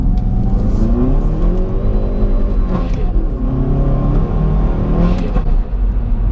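A 320 bhp Hyundai i30N hot hatch burbles and rumbles from its exhaust as it decelerates, loud and close with a continuous engine drone and crackly pops.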